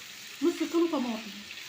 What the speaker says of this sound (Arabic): هحمرهم زي ما انت شايفه كده لغايه ما اللون يبقى ذهبي